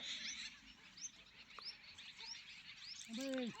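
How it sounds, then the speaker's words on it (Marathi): Birds chirp and tweet repeatedly against a steady outdoor hiss, with short whistled calls scattered throughout and a louder, closer call near the end. "पक्ष्यांचं चांगलं चिवचिवाट चालू आहे बसून."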